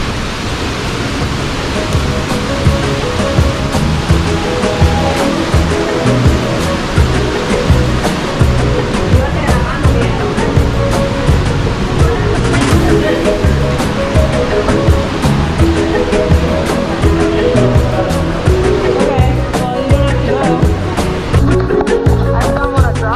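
Loud, constant roar of a jungle waterfall in Chiapas, heard up close from a slippery walkway behind the falls, a dense unbroken rush of falling water with no clear voices.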